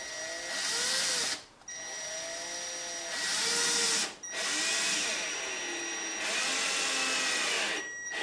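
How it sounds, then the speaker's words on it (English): Power drill slowly driving screws into wood without pre-drilling, a whining motor in several long runs with rising and falling pitch, broken by brief pauses as each screw seats. "I'm running these screws in really slow because I'm not pre-drilling."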